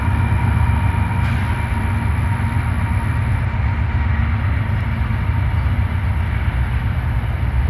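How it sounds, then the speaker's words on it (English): A train passes outdoors on a nature walk, a steady loud low rumble with continuous rolling rail noise holding throughout and no voices over it. "Oh, the train's coming."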